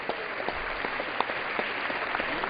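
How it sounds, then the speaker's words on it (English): A round of applause in the House chamber during a session, honoring the chaplain for playing in a game; steady, moderately distant clapping with scattered sharper claps throughout. "So we want to give a round of applause to our chaplain, too, for playing in the game."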